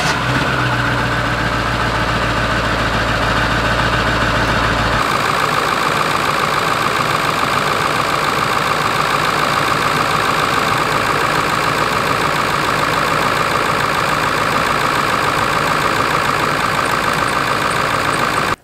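A 1999 Ford 7.3 Powerstroke diesel engine cranks briefly, catches and settles into a loud, steady, clattering idle that holds for the rest of the time, close by.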